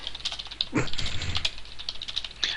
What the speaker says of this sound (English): Why are you typing it?